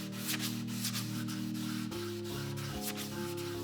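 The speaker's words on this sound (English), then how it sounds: "I start with waterlogged 800 grit sandpaper and a foam backing block" 800-grit sandpaper, soaked in water and on a foam backing block, rubs rhythmically across an acoustic guitar's finish in repeated soft strokes, heard close over a steady tonal hum, without speech.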